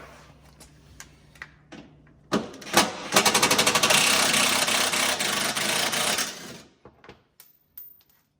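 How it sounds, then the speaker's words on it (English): An impact gun backs out bolts while fitting a rock slider to a 2021 Polaris RZR 1000 High Lifter, giving a close, loud burst of rapid hammering rattle lasting a few seconds, framed by scattered clicks and handling clatter. "I'm going to back them out with an impact gun, a little driver here."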